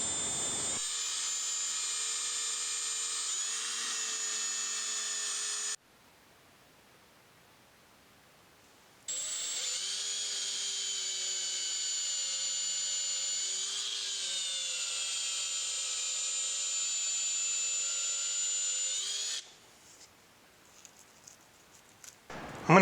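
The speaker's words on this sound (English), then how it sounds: "So I'll start by using a 3/8 Forstner bit, and I'm just going to come to the inside of 1 inch." A 3/8 Forstner bit drills through a sheet metal tab, making a steady grinding whine in two sustained bursts, one about five seconds and one about ten, with a short quiet pause between them. The sound is close and loud.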